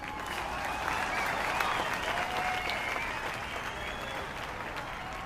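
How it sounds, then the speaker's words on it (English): Sustained crowd applause and cheering from an NBA 2K23 Hall of Fame ceremony, a dense, even wash of clapping that holds steady for several seconds. "So let's hear a round of applause for Mila."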